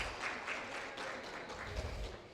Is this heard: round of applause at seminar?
yes